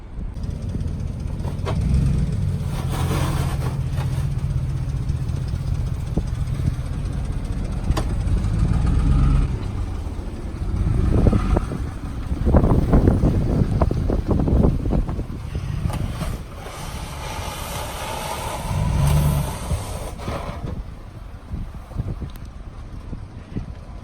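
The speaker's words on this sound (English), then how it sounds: "We're just casually plowing the driveway with the table right now." A vehicle pushes a table strapped on as a plow along a snowy driveway, a low rumbling engine and scraping drone with wind buffeting the microphone, swelling and easing over time.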